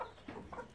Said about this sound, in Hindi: बहुत खूबसूरत मुर्गा है